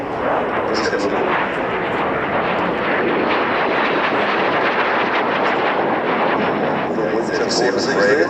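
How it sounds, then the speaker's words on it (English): A Dragonfly twin-jet ground attack aircraft roars loudly and steadily at an air show, its jet engines a constant dense rush filling the air throughout. "Primary role, it's a jet aircraft. It's got 2 jet engines in it."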